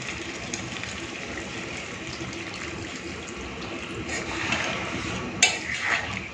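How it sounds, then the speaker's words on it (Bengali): Hot water pours into a pan of potato and pointed gourd curry, a soft steady trickle that swells into a brief splash near the end, with no talk. "এখন এই গরম জলটা দিয়ে দেবো"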